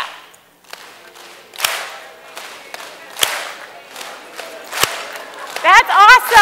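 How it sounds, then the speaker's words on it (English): A group performs body percussion in a steady slap-slap-clap pattern, sharp hits landing in a repeating rhythm across a room, with a voice talking over them and shouting near the end. "So we're going to go slap, slap, clap, slap,"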